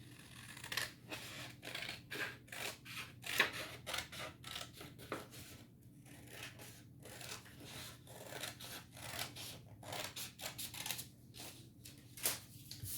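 Scissors snip through paper in quick repeated cuts, a long run of close, crisp clips and rustles in an uneven rhythm with brief pauses, with no voices.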